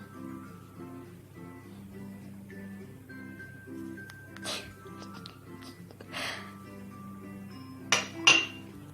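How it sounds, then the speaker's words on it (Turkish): A spoon clinks and scrapes in a bowl of cake batter made with flour, cocoa, baking powder and vanilla. The taps come in sparse short bursts over quiet background music, with a few sharper knocks near the end. "Sonra karıştırıyoruz."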